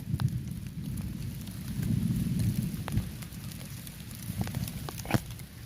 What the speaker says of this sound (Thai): ฝนตกแล้วพี่น้อง ฝนไล่ครับพี่น้อง